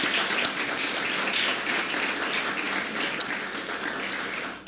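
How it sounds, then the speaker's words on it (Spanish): Congregation applause at a church service, a steady wash of many hands clapping throughout, moderately loud and fairly even, with no clear speech over it. "Den un aplauso al Señor"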